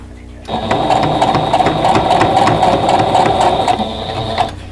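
Close and loud, a sewing machine stitches a quilt block seam for a Contrary Wife stash buster block in one steady run of fast mechanical clatter.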